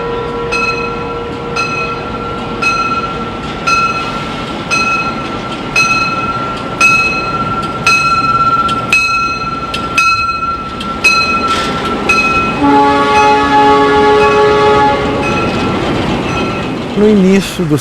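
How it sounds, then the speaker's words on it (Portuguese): A train rolls into a railway station in Brazil, a loud, close rumble and rattle of wagons with bright, tonal horn-like notes and rhythmic clatter building toward the end. "O trem"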